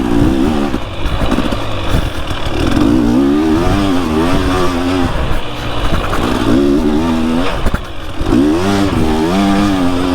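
A dirt bike engine drones loudly through a motocross riding session, its pitch repeatedly rising and falling as the rider works the throttle, with a few brief dips between pulls and no speech.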